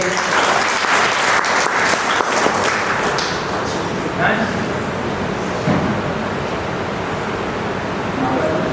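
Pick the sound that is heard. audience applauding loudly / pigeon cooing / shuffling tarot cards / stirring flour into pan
audience applauding loudly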